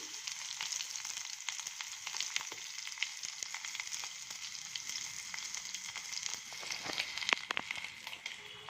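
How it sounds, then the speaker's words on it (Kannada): Chopped onion, green chili and garlic dropped into hot tempering oil, giving a continuous bright sizzle with fine crackling close by, steady and moderately quiet throughout, with no voices. "ಇವಾಗ ಈರುಳ್ಳಿ, ಹಸಿಮೆಣಸಿನ್ಕಾಯಿ, ಬೆಳ್ಳುಳ್ಳಿ ಹಾಕೋಣ."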